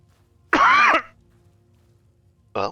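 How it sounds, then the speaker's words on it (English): A person coughs close to the microphone, one sharp throaty burst followed by a brief pause and the start of a second, quiet in between. "I tried to cough off screen, and that didn't work"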